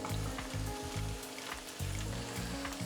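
Chopped onions with a sprig of curry leaves and salt frying in a hot pan for a tomato egg curry, a steady close sizzle with rhythmic low thumps and scrapes from stirring throughout.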